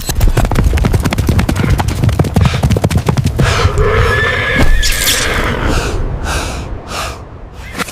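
Story sound effect of horses: a fast, loud clip-clop of galloping hooves gives way to snorting, heavy breathing and a shrill neigh near the end, close and without speech.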